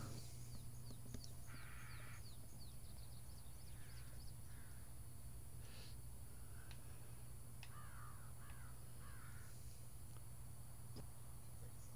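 Crows in a Ghost War game give a string of scattered caws, some near and some farther off, spread over a constant low background hum.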